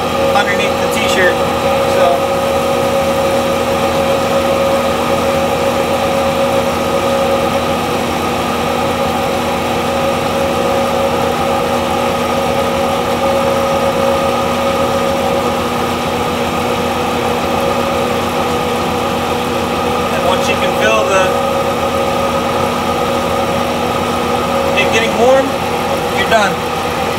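A wood lathe spins during a woodturning finishing step, giving a steady mid-pitched drone and hum that runs unchanged for nearly half a minute, with a few faint scrapes and ticks over it.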